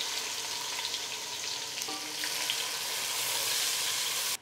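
Three medium onions frying in hot oil with whole spices for mutton pulao, a steady loud close sizzle with brief stirring scrapes, continuous throughout, no talk.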